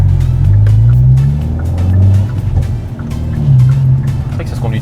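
Hyundai i20 N hot hatch driving on the road with four people aboard, a loud close engine drone that rises and falls with gear changes and throttle, under tyre and road roar, with no clear talk.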